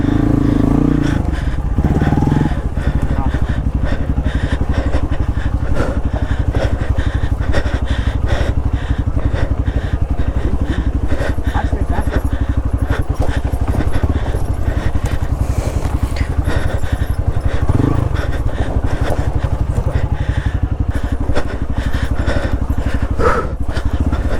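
Several Hero Xpulse motorcycles idle on a downhill trail, a loud, steady, close engine rumble with clattering that runs throughout and barely changes.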